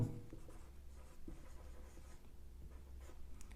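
Marker or chalk writing on a board during a chemistry lecture, faint soft scratching strokes at intervals over a quiet room hum.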